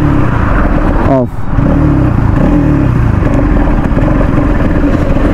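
A new Bajaj Pulsar NS200 BS7 motorcycle engine runs steadily up close, loud and continuous, with a brief dip and pitch sweep around the one-second mark before the steady drone resumes.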